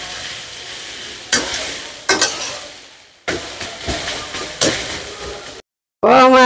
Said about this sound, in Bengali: আমি লাড়া সারা করিয়া পাতায় আর মাছে সুন্দর করে মিশাই নি।